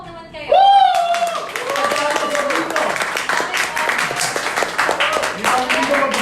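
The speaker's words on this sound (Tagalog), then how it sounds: "palakpak naman kayo" A seminar audience at an entrepreneurship talk bursts into loud, steady clapping after a brief call from a voice, with scattered voices and cheers mixed into the applause.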